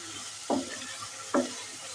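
Desi chicken masala frying in oil as water is added, two short hissing bursts of sizzle with stirring rising over a steady background crackle.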